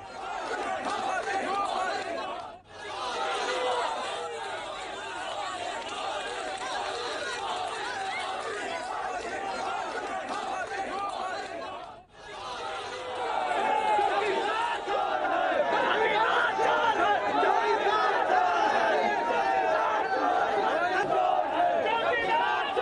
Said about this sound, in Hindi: मोदी मोदी के नारे प्रियंका गांधी के सामने जब लग रहे थे